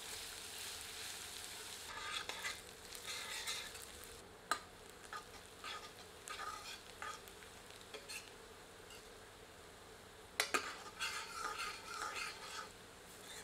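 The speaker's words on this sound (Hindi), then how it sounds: "अब इसमें प्याज सम्मिलित करते हैं। आंच मध्यम कर लेते हैं और इसे भूनकर सुनहरा कर लेते हैं।" Onions fry in a pan over medium heat for a dhaba-style chicken curry, a soft close sizzle broken by scraping stirs and occasional sharp clatters of the spoon against the pan, with no one speaking.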